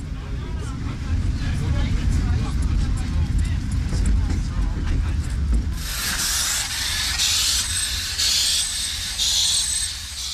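A preserved 030T steam tank locomotive built by SLM Winterthur in 1901 releases loud, pulsing bursts of hissing steam in its second half, following a low rumble, while a narrator speaks throughout.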